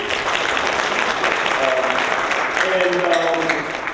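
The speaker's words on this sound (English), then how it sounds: "So let us give Dr. Yamba another round of applause, please." An audience gives Dr. Yamba another round of applause at an Essex County College event hosted for the King of Ghana; continuous crowd clapping fills the room, with faint voices murmuring underneath.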